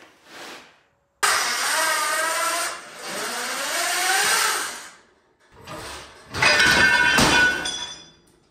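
A homemade foldable bandsaw with welded frame and pulleys is switched on: a loud, close motor whine rises and wavers, drops out briefly, then returns with a harsher rattling surge, no talking.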